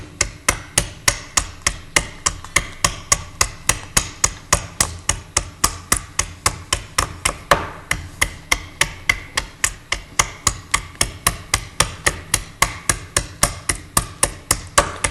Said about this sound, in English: the adze is attached to the shaft with leather ties, and it would have been used by trimming